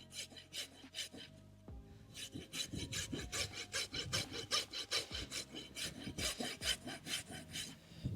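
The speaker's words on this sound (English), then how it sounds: "So just gently start to use your rasp, and you come across the angle where your bulbs are." A rasp filing a horse's hoof with rhythmic back-and-forth rough scraping strokes, close and fairly quiet, a brief pause early on before steady repeated strokes continue.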